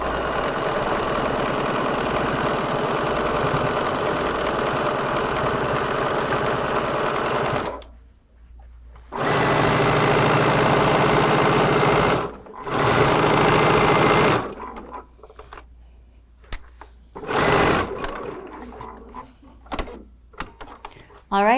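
A sewing machine runs loud and close while stitching quilt block rows, in long continuous whirring bursts broken by short stops, then shorter runs with handling noises between them.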